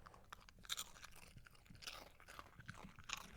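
A dog crunches a single Cheez-It cracker close to the microphone, with a quick run of crisp, irregular chewing crackles and bites, quiet overall, no talking.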